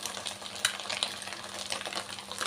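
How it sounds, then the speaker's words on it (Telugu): Chicken sizzles and fries in a pan while being stirred for restaurant-style chicken fried rice, with close, steady crackling and scraping strokes and no talk. "కలుపుకుంటూ ఒక 2 మినిట్స్ ఇలా ఫ్రై చేసుకుందాం"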